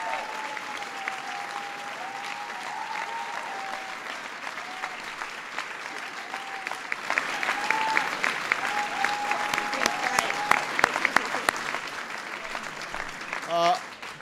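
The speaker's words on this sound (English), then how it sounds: "Please give Steve a big round of applause." A crowd applauds at a White House LGBT Pride reception, steady clapping that swells louder toward the end while a voice talks over it early on.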